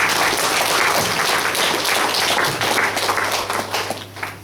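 Audience applause at a Ram Katha temple program in Hamilton, honoring the band members, sustained dense clapping throughout that tapers toward the end, with a low steady hum underneath.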